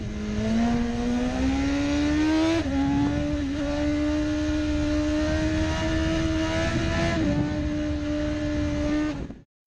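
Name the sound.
BMW 999cc motorcycle engine revving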